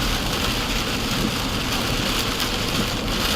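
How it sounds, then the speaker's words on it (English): Heavy rain pounds a car while it drives down a road between Indiana and Texas, a dense, steady roar of drops with low road rumble beneath it, loud and unbroken throughout. "Raining like crazy."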